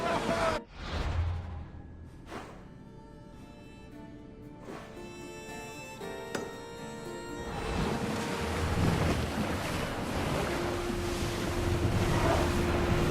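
In Assassin's Creed Odyssey, a ship pushes through open sea, its hull slapping waves and swelling into a steady wash of surf and wind that grows louder over time, broken by a few creaks and thuds early on.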